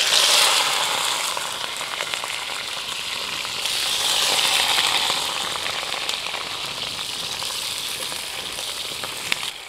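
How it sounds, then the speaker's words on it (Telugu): Chicken pieces frying in hot oil give a loud, steady, dense sizzle that carries on unbroken from start to finish, with no voices over it. "నూనె వేడెక్కిందండి, చికెన్ వేసేసుకుందాం."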